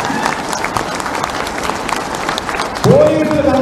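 A rally audience at a Munugode political meeting applauds, with dense crowd clapping that runs steadily throughout and a sharp tonal squeal near the end, heard at a distance.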